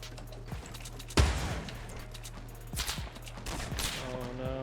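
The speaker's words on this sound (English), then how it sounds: "there's people behind us sniping at us" Sniper gunfire during a Fortnite match, from behind, a sharp loud crack followed by further shots and gunfire bursts among other game sounds.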